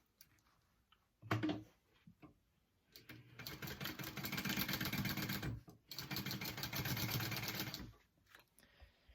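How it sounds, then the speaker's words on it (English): A sewing machine stitches a quarter-inch seam on a fabric pouch, running in two steady whirring bursts after a short opening start, close and clear with no voices. "Go ahead and sew that on."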